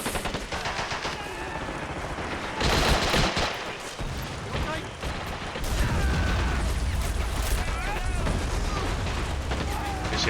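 Gunfire in the real-time strategy game Men of War Assault Squad 2 during a multiplayer 3v3 match: continuous bursts of machine-gun and rifle fire with booming hits and mechanical rumble, a voice talking over the battle.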